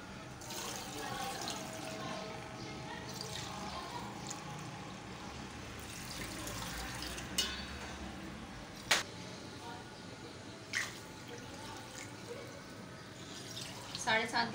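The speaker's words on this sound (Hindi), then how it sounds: "साढ़े 7 गिलास पानी मैं इसमें शामिल करूंगी।" Water runs and splashes steadily into a cooking pot, seven and a half glasses for sweet jaggery rice, with occasional clinks and knocks, fairly quiet and close.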